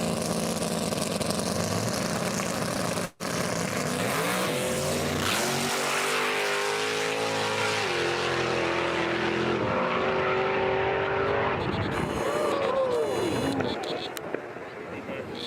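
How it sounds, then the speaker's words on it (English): Kevin Fields' C5Z Corvette with a nitrous-fed big-block launches down a drag strip, a loud roaring engine surge that builds and carries across the run, with crowd noise and voices mixed underneath. "This is Kevin Fields and a C5Z with a big block of nitrous."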